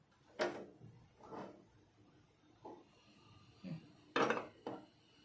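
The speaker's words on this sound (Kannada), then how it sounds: "ಈಗ ನಾನು ಗ್ಯಾಸ್ ಮೇಲೆ ಒಂದು ಕಡಾಯಿ ಇಡ್ತೇನೆ." A metal kadai set down on a gas stove while spinach pakoras are prepared, giving several sharp, close clanks and knocks spaced irregularly, with no talking.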